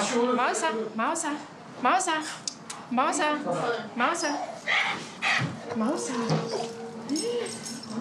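A dog at a French animal shelter whimpers and yips in several short bursts, up close, while people talk over and between the sounds.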